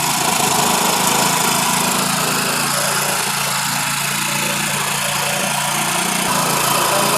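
A scooter engine runs steadily at a high, buzzing pitch during carburetor RPM adjustment with the air screw, a loud and constant drone with slight wavering and no talking.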